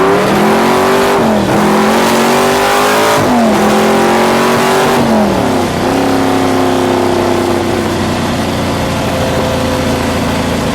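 A 1969 AMC AMX factory Super Stock drag car revs loudly and close, its engine pitch climbing through several sharp accelerations and gear changes before settling into a steady, powerful drone.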